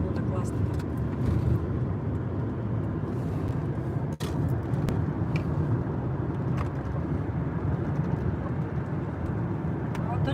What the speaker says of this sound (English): we rode in a car for only like 3 minutes